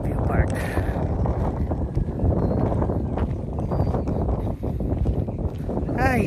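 Steady, loud wind buffeting the microphone at an outdoor view park, a continuous broadband roar with gusty swells and no clear talk.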